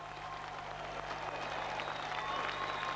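A crowd applauds steadily at the 1993 World's Strongest Man event. The clapping sounds distant and fairly faint and blends into a continuous wash of claps and crowd noise.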